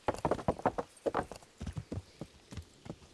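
Horse hooves clip-clopping in the medieval game Kingdom Come: Deliverance, a brisk run of close, sharp hoof strikes with a brief whinny-like sound, standing alone without talk.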